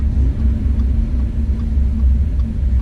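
Audi S4 engine and exhaust in full dynamic mode, a steady loud low rumble that holds throughout, dense and close without distinct revs or talk.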